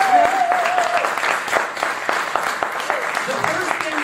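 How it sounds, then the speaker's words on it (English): Applause rolls through a Rotary club meeting for a group of performers, steady clapping from a modest audience with a brief tone at the start and some voices underneath. "So give them a big round of applause."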